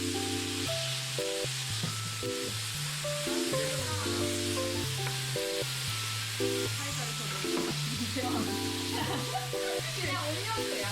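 Korean BBQ meat sizzles on a home grill, a steady close hiss and crackle running without a break beneath looping background music.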